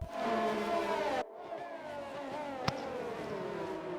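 Racing cars on a formation lap in an F1 racing video game at Azerbaijan, engines droning and whining at moderate pitch, one car passing loudly before a sudden cut to a quieter, more distant engine hum with a sharp click.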